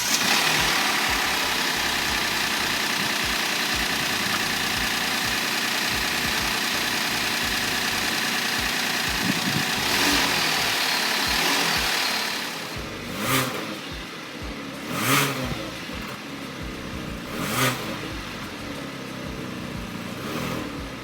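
A 2020 Hyundai Palisade's 3.8-liter V6 runs at a steady, loud idle, then several sharp revs swell and fall back in the second half, with no talk over it.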